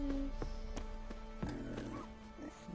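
Horse from the Witcher 3 video game moving with repeated hoof clip-clops and a snort or whinny, close and fairly loud over a steady game music drone.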